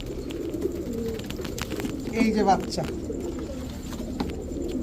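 Pakistani teddy pigeons coo in low, rolling phrases close by, one burst swelling in the middle, while someone talks over them.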